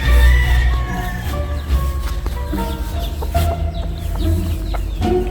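Chickens clucking and calling nearby in a backyard, repeated loud clucks and squawks over a busy farmyard background.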